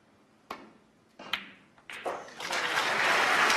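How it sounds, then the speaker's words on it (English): Packed Crucible snooker crowd at the World Championship breaking into applause, starting with a few scattered claps and swelling into dense, sustained clapping and cheering. "you hear the cheers from this packed Crucible crowd"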